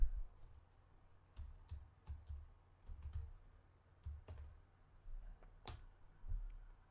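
Sparse, faint clicks from a computer mouse while working in a Java GUI editor. Irregular single and double clicks sound close against a quiet background, with no talking.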